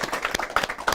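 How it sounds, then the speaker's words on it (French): An audience at a French tournament final applauds, a short burst of dense, close clapping from a crowd. "On peut l'applaudir aussi, franchement."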